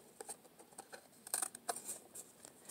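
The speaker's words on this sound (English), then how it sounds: "I'm going to cut some little slits in them." Scissors snipping small slits into cut paper shapes for a found-art sculpture, a handful of short crisp close snips spaced irregularly across a quiet room.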